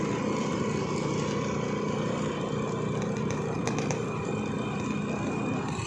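Motorbike being ridden on the road, a steady close engine drone with wind noise, continuous and unbroken throughout with no talk.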